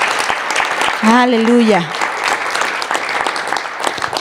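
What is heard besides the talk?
congregation applauding in church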